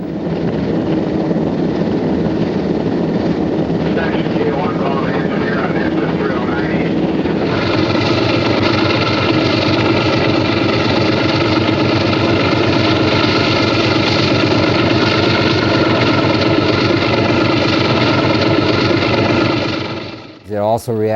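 A heavy Alco diesel locomotive engine rumbles steadily and loudly for the whole stretch, its pitch lifting slightly partway through as it works harder, then cuts off abruptly.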